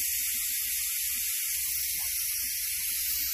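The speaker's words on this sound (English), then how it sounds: "first we need to remove the steam" Steam released from a cooker while making Nepali-style fish curry, a continuous, strong high-pitched hiss with faint low rumbling beneath, held steady and close.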